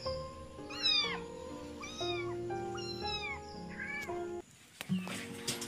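A frightened, abandoned kitten meows loudly and insistently during a rescue, giving a run of rising, wavering cries close by, followed by rustling handling noise as the crying pauses.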